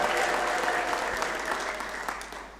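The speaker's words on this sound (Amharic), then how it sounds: "ረባካችሁ እልልታና ጭብጨባ አምጡ።" A church congregation at a Protestant service applauds, a dense and sustained clapping that fades slightly over a few seconds.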